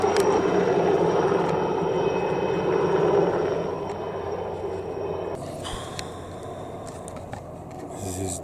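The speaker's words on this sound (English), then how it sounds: "Flying the drone while there is an helicopter flying" A helicopter drones steadily overhead with a broad rumbling rotor noise, loud at first and then easing slightly as it moves off, near Keshikchidagh Monastery in Georgia.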